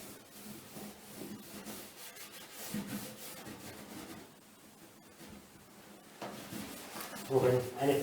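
A lint-free cloth soaked with wax is rubbed along the grain of a wooden cabinet, giving soft, continuous scuffing strokes at close range with a few louder passes near the end.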